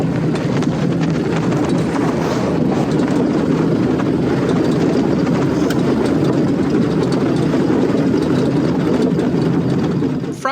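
Interior of a Sinner Mango velomobile while it is pedaled, a loud steady rumbling drone that fills the shell and stays constant throughout, with no talking.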